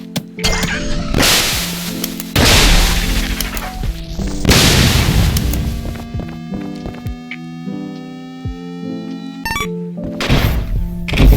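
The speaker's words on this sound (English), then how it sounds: "I replaced the gun sounds with obviously the Zapper from the original Nintendo. Or well, these sound effects are all from Duck Hunt" In ULTRAKILL with gun sounds swapped for NES Duck Hunt Zapper effects, several loud, harsh, noisy blasts alternate with ringing electronic chiptune-style tones and quieter gaps, no talking.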